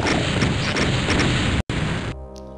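A steel barrel explodes in the video game DOOM, a loud, harsh, sustained blast and crash that cuts off abruptly and then gives way to a quieter low hum.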